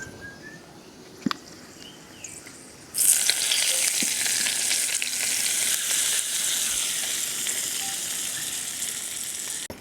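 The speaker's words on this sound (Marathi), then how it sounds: "आता हा आपण चटणीवरती घालून घेऊ" Hot tempering poured onto chutney for raw jackfruit fritters bursts into a loud steady sizzle that carries on for several seconds, with a few faint clinks before it and no talk.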